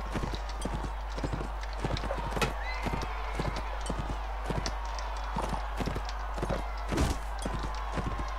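Video game horse hooves clip-clop steadily at a brisk pace, with occasional louder thuds over a low constant hum.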